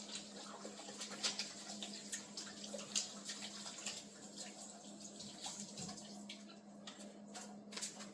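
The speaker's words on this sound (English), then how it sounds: "I'm gonna wash my hand again and start preparing all the vegetables." Hands washed under running tap water in a home kitchen, a faint, steady trickle with scattered light splashes and a soft background hum.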